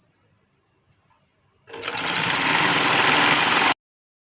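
A sewing machine stitches a palazzo jumpsuit, starting abruptly partway in with a loud, steady mechanical whir that runs for about two seconds and then cuts off sharply into silence.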